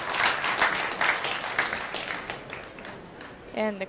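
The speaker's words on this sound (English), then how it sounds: "And the crowd goes wild" A crowd applauds at a pool 10-ball world championship, a burst of broad clapping that swells early and fades over a few seconds, followed by a brief voice near the end.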